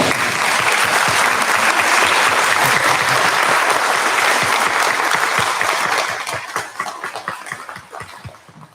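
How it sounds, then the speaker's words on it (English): Sustained applause from an audience at an elementary school graduation, clapping for the finishing sixth-grade students; dense, loud clapping that thins toward the end, with scattered voices beneath. "Students, will you stand so we can clap for you all?"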